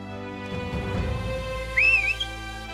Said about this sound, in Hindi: अब सीटी कैसे बजाते?